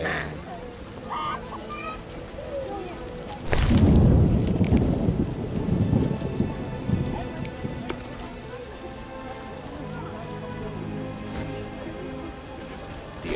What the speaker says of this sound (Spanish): Llueve.